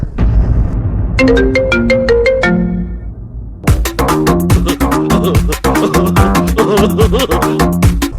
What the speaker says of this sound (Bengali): এই কপিলে ফোন দিয়েছে রে